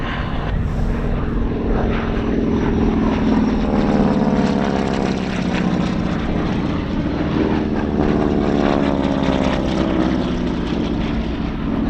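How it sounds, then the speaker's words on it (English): World War II era propeller aircraft pass overhead at an air show weekend, their loud, throbbing engine roar sweeping past continuously with rising and falling pitch as the planes fly by. "3 of these aircraft will break to the left, set up for landing."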